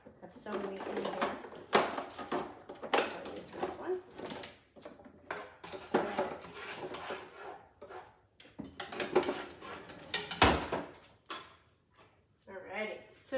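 Metal kitchen utensils clatter and clink as a drawer is rummaged for a large spoon, with repeated scraping and knocking bursts under a person talking.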